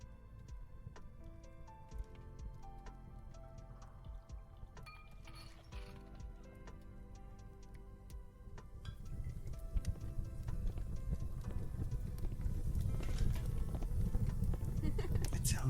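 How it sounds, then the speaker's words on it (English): A tavern ambiance effect with an open fire plays as a steady bed of crackling, clattering and ticking, with clinks and knocks scattered through it; the rumble grows louder and denser in the second half. "Tavern ambiance with open fire effect."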